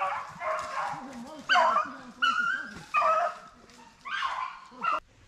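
Hunting dogs bark and yip during an outdoor rabbit hunt in Chile, several sharp close barks in bursts with whimpering between, mixed with people talking.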